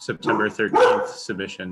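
A dog barks a few times in the background at home during an online planning board meeting, with the yaps mixed in under a man's ongoing speech.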